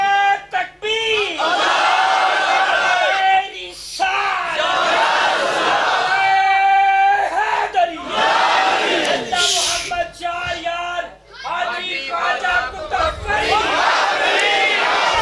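A large crowd at a religious gathering shouts slogans in unison, loud call-and-response chanting with a leader's voice rising between bursts of massed voices, continuous and close.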